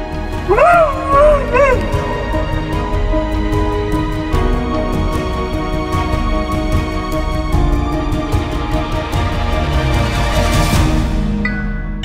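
New Guinea singing dog in Papua yipping and whimpering with high, wavering, sliding cries close by, then fainter whines and scattered sounds over a steady background.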